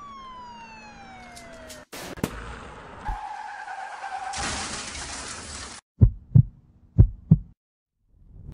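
A car skids in a staged police chase scene after its tire is shot, with a long screech and rising whine, a loud burst of noise, then several sharp separate thumps close by with no talking.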